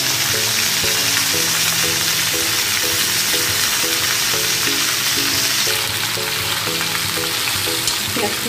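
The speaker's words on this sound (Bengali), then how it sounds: "এবার আমি এর মধ্যে পেঁয়াজ কুচিগুলো দিয়ে দিচ্ছি।" Chopped onions fry in hot oil for a Bengali pui saag chorchori, a steady, loud sizzle filling the whole stretch, with faint rhythmic stirring or background music beneath and no talking.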